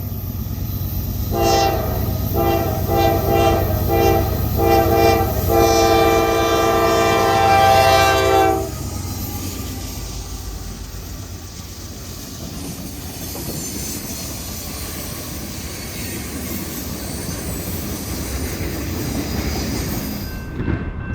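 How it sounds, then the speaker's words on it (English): A Norfolk Southern freight train headed south toward New Orleans behind four locomotives passes loudly, its horn sounding in a series of long blasts before the rolling rumble of cars and wheels continues steadily. "Here we see NS 131 southbound to New Orleans with 4 Norfolk Southern locomotives."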